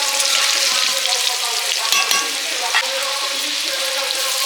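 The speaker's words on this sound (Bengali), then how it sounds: "গোটা গোটা আলু দিয়ে মাংসের ঝোল হবে এই জন্য ভেজে নিচ্ছি আলুগুলো" Whole potatoes, lightly salted and dusted with a little turmeric, fry in a pan of oil for a meat curry, giving a steady, close, loud sizzle and crackle with no talk.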